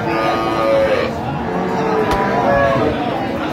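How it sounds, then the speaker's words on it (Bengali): A cow lows loudly and close by at a busy village cattle market where Sahiwal and Sindhi dairy cows and calves are sold, one long drawn-out moo over steady crowd chatter. "আর আমরা দেখছিলাম এখানে একটি গরু দেখছেন"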